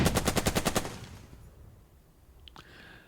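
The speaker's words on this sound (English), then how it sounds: "The cannon cracks, slams down, and buries itself in the burned out truck." Rapid burst of about eight sharp gunshot-like cracks from a cannon firing in the Burden of Command war game, loud and close, followed by a quieter rumbling tail and a faint metallic clink.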